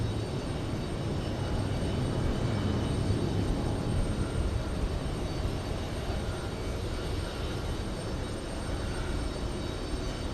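An Emirates Airbus A380 jet airliner on the runway at JFK gives off a steady, fairly faint broadband roar that holds evenly throughout.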